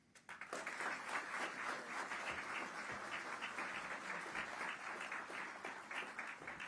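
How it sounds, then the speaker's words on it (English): Sustained applause from a crowd at a border security event in Phoenix, many hands clapping steadily and fairly loud, filling the whole stretch without letup. "I just want you to give a round of applause and welcome Mark Morgan."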